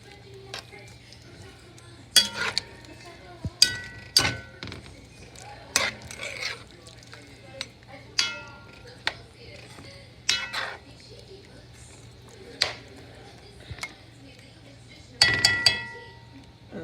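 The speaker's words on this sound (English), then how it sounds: "It melted out, so now I'm gonna stir it up." A spoon stirs melted chicken pilau in a pot, giving scattered clinks and scrapes against the metal at an irregular pace, faint and close over a low steady hum.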